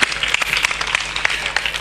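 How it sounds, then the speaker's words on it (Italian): Audience at a seaside festival for the Santissima Trinità in Marina di San Lorenzo applauds the presenter's assistant, with sharp individual claps standing out within a fairly loud, uneven round of clapping. "Eccola qua, un applauso a Mia."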